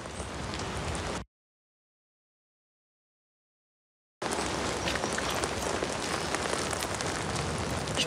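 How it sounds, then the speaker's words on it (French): Steady rain falls in the Bois de Boulogne, a dense, even hiss of drops on surfaces that cuts out abruptly for about three seconds of silence, then returns just as thick and close. "Il a plu toute la nuit et ça continue."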